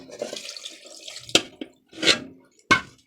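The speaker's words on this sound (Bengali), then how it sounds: "জলটা গামলা ধুয়ে দিয়ে দেবো," Water is splashed and poured to rinse out a kitchen basin, with several short close splashes and clanks separated by brief pauses.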